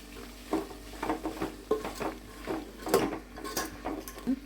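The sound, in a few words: vegetables sautéing and being stirred in a pan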